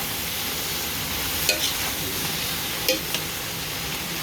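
Pansit canton noodles with plenty of vegetables stir-frying in a pan, a dense continuous sizzle with a couple of faint utensil clicks.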